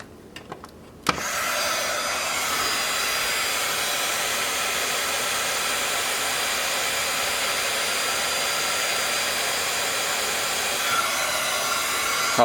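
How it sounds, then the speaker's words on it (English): A heat gun roars steadily with hot air for about eleven seconds, loud and close, during assembly of a Heathkit ET-3400 memory/IO accessory kit, after a few brief clicks at the start. "Hit it with the heat gun."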